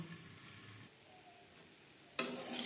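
Onion stalks frying under a lid in a covered pan over a medium gas flame, a very faint muffled sizzle that suddenly flares into a brighter, louder hiss near the end.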